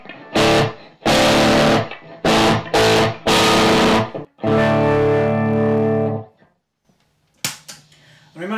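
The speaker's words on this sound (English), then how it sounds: "put in a lot of extra sort of distortion" Electric guitar played through a Fulltone GT 500 FET boost overdrive pedal set for heavy distortion with the highs raised: a burst of loud, crunchy strummed chords, then a long sustained ringing chord that cuts off into near silence.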